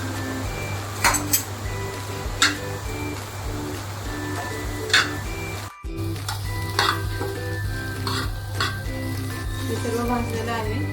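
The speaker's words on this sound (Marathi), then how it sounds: "खोबरं, लसूण मी हे सगळं एकत्र गरम करून घेते" Coconut and garlic roast together in a pan with a continuous close sizzle, punctuated by scattered clinks and scrapes of stirring. A low steady hum runs underneath, and the stirring briefly pauses midway.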